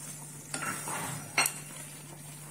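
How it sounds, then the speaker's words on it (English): A spoon stirring a pot of okro soup with fish, a couple of metallic scrapes and a sharp clink against the pot, faint and close with no one speaking. "Stir it to combine"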